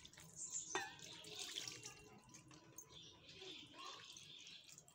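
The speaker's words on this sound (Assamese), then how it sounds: "পানী দি দিওঁ" Water is poured into a cooking dish of food mixed with chopped green chilli, a faint, close trickle and splash that runs on for several seconds.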